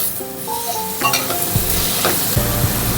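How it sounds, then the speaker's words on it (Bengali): Garlic cloves and two dried red chilies frying in oil give a bright, continuous sizzle, joined by ringing metallic pan tones and an occasional stirring clatter. "এই রসুনটা আর সাথে দেব এই যে দুটো শুকনো লঙ্কা এগুলো সবগুলো আমি একটু ভেজে নেব"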